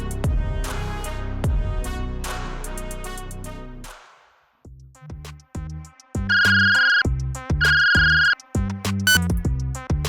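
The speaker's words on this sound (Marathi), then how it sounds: "हॅलो, शिवा फोन रिसीव्ह करत म्हणाला" A loud electronic ringtone plays a repeating melodic pattern of bright tones, with a short quiet gap partway before the tune resumes.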